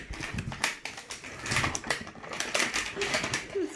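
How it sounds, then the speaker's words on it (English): Plastic film being ripped off a Rainbocorns series 3 toy egg, a continuous crinkly tearing and rustling for several seconds, moderately loud and close, with faint voices underneath. "you pull on the side to rip the film off"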